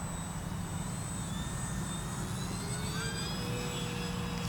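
An E-Flite P-47 RC model airplane, 1.2 m span, takes off, its electric motor giving a steady, fairly faint whine that rises slightly in pitch over a continuous low hum.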